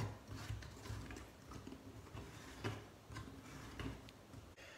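A Nicoll bathtub drain counterpart is screwed on by hand, its plastic threads giving a close, steady ratcheting series of clicks and ticks.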